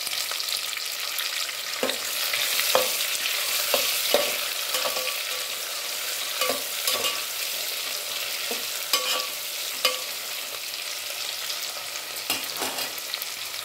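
Tomatoes frying in a pan for a ridge gourd biryani, with a steady close sizzle and scattered stirring clicks and scrapes of a spoon against the pan, and no voices.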